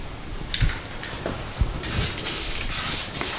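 Short aerosol bursts of semi-gloss black paint hiss onto an Audi R8 radiator support in a garage, a few brief sprays at first, then longer steady passes, with light knocks of handling in between.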